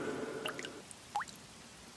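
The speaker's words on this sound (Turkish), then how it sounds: "Damlaya damlaya su birikiyor" Cartoon water dripping drop by drop, a few sparse, faint plinks and plops spaced apart against a quiet background after a brief fading tone.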